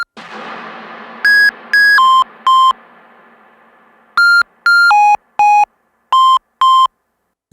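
Eurorack modular synthesizer playing a sequence of short pitched notes shaped by an envelope, clean electronic tones in bursts of one or two, following a fading noisy wash at the start.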